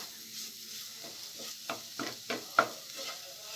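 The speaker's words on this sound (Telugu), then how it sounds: "ఇదంతా బాగా వేయించుకోవాలి తడి అంతా పోయేదాకా" A snack mixture fries in a pan as it is stirred until the moisture cooks off; a soft sizzle underlies a series of distinct scraping strokes of the spoon against the pan, roughly one every half second, close by and without speech.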